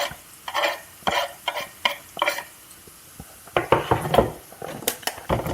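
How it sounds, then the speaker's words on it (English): Chopped onion goes into a pan for spaghetti bolognese, with clattering spoon-on-pan scrapes and knocks in irregular bursts over a faint sizzle, close and fairly loud. "Then we add the onion."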